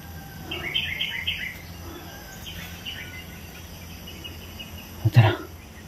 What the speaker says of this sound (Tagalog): Ba't ibang huni ng ibon, mga idol, sa taas?